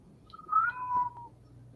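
A cat meows once in a drawn-out, rising then falling call, fairly close, over a low steady hum inside a truck stop setting.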